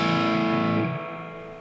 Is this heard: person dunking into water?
no